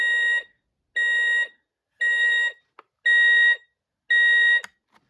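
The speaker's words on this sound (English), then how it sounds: "Probably the most annoying backing up sound I've ever seen on a toy before." A 1991 Servco toy tanker truck sounds its reversing alarm: five loud, shrill electronic beeps about half a second long, spaced roughly a second apart, with small clicks between them and no voices.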